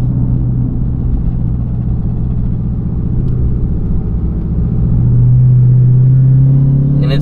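A Dodge Hellcat with a broken transmission makes a loud, steady, low mechanical rumble and whir up close as the driver lets off the gas, with a droning tone rising near the end.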